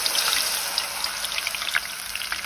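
Battered artichoke pieces fry in very hot oil, a close, continuous crackle and sizzle with scattered sharp pops and spits, heard alone without talk.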